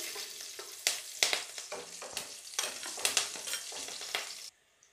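Green chillies sizzle and crackle in hot desi ghee in a pan, cooking for sabudana khichdi, with a busy, close frying hiss broken by louder spatters and the scrape of stirring, ending in sudden quiet.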